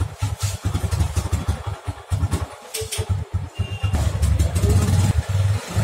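A 150 cc motorcycle engine runs at a market in Karol Bagh, New Delhi, a close, loud, choppy idle with uneven pulsing throughout.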